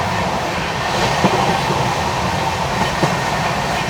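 An LHB coach of the Garib Rath Express runs at speed through Kochuveli station, heard from inside as a loud, steady rumble with rhythmic wheel clatter over rail joints.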